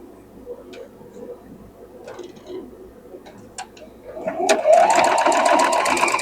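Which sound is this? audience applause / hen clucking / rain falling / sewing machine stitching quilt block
sewing machine stitching quilt block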